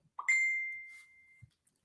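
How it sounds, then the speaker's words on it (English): A single bright ding from a phone signals an incoming text message, ringing clearly for about a second before fading, with no talk over it. "Here go the text messages from the Cow Bitches fans."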